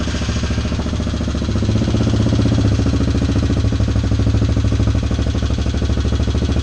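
A Chinese Hawk 250 adventure motorcycle engine, just started with the key, runs loud and close in a steady rough idle with a rapid mechanical knock-like pulse throughout.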